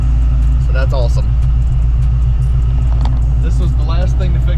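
Foxbody Saleen Mustang V8 fitted with Holley EFI, a loud, steady close-up engine rumble that stays smooth through a light rev, with a voice talking briefly over it.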